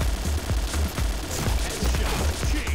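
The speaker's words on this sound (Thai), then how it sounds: "เราก็ใช้การยิงแบบนี้ยิงดักหรือยิงในระยะไกลๆเนี่ยเราจะได้เปรียบนะครับ" Rapid automatic fire from an AUG rifle in the shooter game Point Blank, delivered as several quick bursts of cracking shots with brief gaps, steady and close throughout with no talking.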